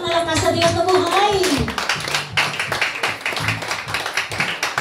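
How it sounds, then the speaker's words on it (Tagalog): Church congregation clapping in praise, dense rhythmic applause building after a voice speaks and sings over sustained tones, loud and close, continuing steadily to the end. "Palakpak na lang sa Diyos na buhay."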